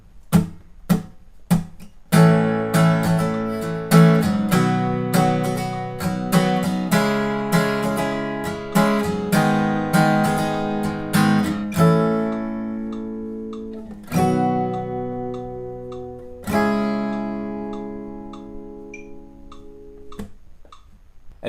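Acoustic guitar playing a pre-chorus chord progression with single ringing strums, each chord struck once and allowed to sustain and decay, clear and close with no voice over it.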